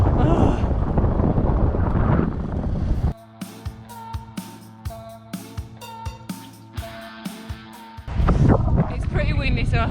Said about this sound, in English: It's pretty windy, so I hope you can hear me alright